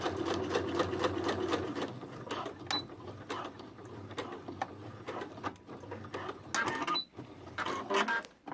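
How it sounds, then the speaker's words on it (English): Sewing machine stitching across a sleeve tab, a fast steady mechanical chatter of needle strokes running close and continuous, with brief pauses and small clicks near the end; no talking. "And I'm stitching across."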